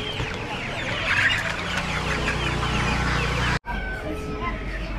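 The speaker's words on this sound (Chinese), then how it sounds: "这边全是鸭苗、鸡苗。" Baby chicks and ducklings peep and cheep in a dense, continuous chorus at a rural Guangxi market, close by with some clucking, ending abruptly in a brief cut.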